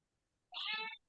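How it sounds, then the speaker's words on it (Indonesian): A single cat meow, short and clear, rising out of silence at close range. "Kucing. Meow."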